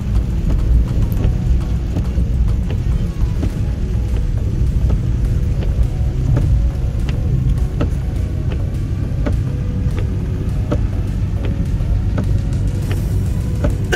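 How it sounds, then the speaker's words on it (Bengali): Heavy rain pours outside during a sudden change in weather, with thick fog: a steady, dense roar of falling water with scattered sharp drop impacts, continuous and loud, with no voices. "বেশ জোরে বৃষ্টি পড়ছে বাইরে, সাথে ঘন কুয়াশা।"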